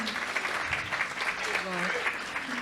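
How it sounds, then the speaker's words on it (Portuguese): Audience applause for Fernanda Montenegro at a book fair event fills the space in a steady wash of clapping, with a voice speaking faintly underneath throughout. "Palmas para a nossa Fernanda Montenegro"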